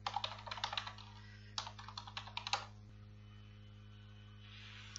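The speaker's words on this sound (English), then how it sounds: "Let me enter the default username and let me enter the password." Quick bursts of keystrokes on a computer keyboard as a username and then a password are entered, two clusters of close, crisp clicks separated by a short pause, over a steady mains hum.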